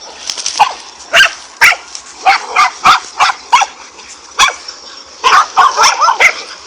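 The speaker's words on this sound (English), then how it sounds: "One dog would distract the snake, while another would pull at its tail or midsection." A pack of dogs fights a snake outdoors, barking and yipping close and loud in rapid, irregular bursts, several sharp barks overlapping with whimpering yips over several seconds, with no talking.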